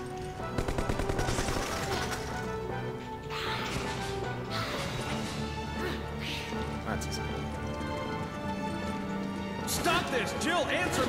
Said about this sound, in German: Schießt.